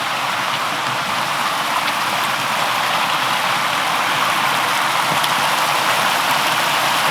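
A small stream flows on a mountainside below a waterfall in a bamboo forest, giving a steady, even rush of water that holds constant throughout, fairly loud and close with no talk.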